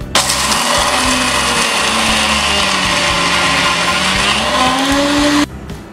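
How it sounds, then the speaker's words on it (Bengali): A blender grinds peeled nuts for homemade Nocilla, a loud continuous whirring roar with shifting pitch that runs steadily for about five seconds before cutting off abruptly near the end. "আমি বাদামগুলোকে ব্লেন্ডারে ব্লেন্ড করে নিয়েছি"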